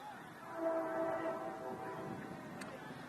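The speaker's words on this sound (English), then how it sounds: "Train seems extra loud today, Al." Train passing near a baseball field, sounding a sustained, slightly wavering horn over a low rumble of rail noise, moderately distant and steady.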